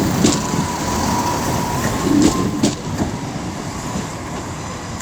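East Midlands Railway Class 170 Turbostar diesel unit 170-535 passing through Wolverhampton station on the West Coast Main Line, a steady near rumble with faint clicks of wheels over rail joints, no talk.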